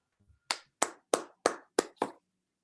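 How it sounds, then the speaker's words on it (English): Six evenly spaced hand claps, clear and close, from a lone person during a virtual school fundraiser shave event, each crisp clap ringing briefly before the next. "So let's give a virtual round of applause to Athena."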